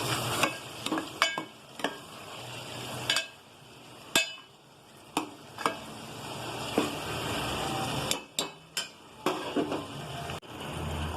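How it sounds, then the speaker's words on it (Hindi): Chicken liver masala being stirred as salt is mixed in: a bed of sizzling cooking with repeated sharp scrapes and knocks of a spoon against the pot at irregular intervals, close and fairly loud, no talking. "और अच्छे से मिक्स कर लूंगी।"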